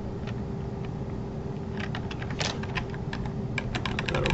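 Rapid keystrokes on a computer keyboard while code is typed, clicking in uneven bursts that thicken toward the end, close and clear over a steady low background hum.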